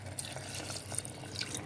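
Coconut milk trickles and splashes quietly into a pot of seeraga samba mutton biryani made Dindigul Thalappakatti style, a faint, steady liquid pour with small drips.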